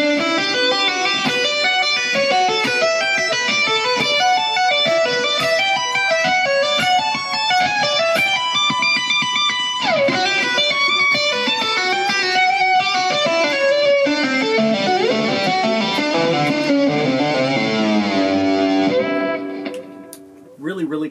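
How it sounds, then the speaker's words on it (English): The tapping section of a song, played on distorted electric guitar and slowed down, gives a dense, continuous run of sustained notes for about twenty seconds, loud and with no talking. "the tapping section, which slowed down sounds like this."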